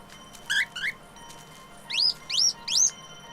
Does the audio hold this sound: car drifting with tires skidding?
no